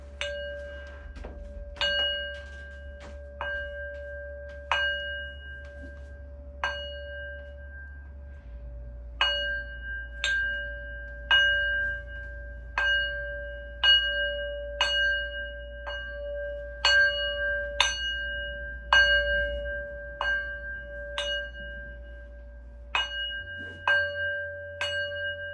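Singing bowl and small bells struck again and again during a sound healing session, each ringing tone sustaining and layering into a shimmering wash, with steady low hum beneath and no talking.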